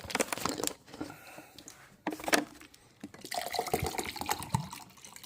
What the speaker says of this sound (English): Actually, add some water